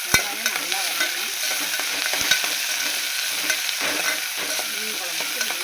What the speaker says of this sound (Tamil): இப்போ சின்ன வெங்காயம் கட் பண்ணி வச்சுக்கலாம். நல்லா பொன்னிறமாக நல்லா வதக்கணும்